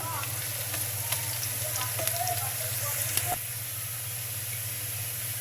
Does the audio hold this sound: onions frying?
yes